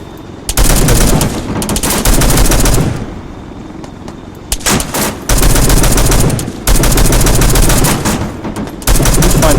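Sustained automatic gunfire and explosive bursts from an Arma 3 military operation, loud and close, rolling in long overlapping volleys with brief lulls between them.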